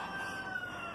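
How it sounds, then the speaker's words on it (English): A rooster crows faintly in the distance, a thin, drawn-out call heard alone over a quiet background. "Sorry if you can hear my rooster."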